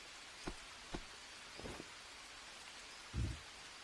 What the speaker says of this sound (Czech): Teď prší, jak by ho to mělo spláchnout, ne?